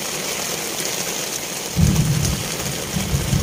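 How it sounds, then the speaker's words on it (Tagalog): A thunderstorm rolls over a seaside spot before dawn during a squid-fishing trip, with steady rain hissing throughout and a deep rumble of thunder swelling in partway through and lingering under the downpour; no one speaks. "Ayan na po, kumulog uli."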